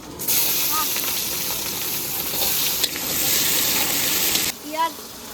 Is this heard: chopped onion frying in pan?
yes